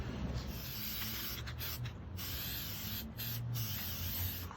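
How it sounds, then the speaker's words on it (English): Spray paint hissing on as a second coat over a Ghostbusters PKE meter prop toy, a steady close broadband spray with a few brief pauses and low background rumble, no talking. "let's go with a second coat of paint here"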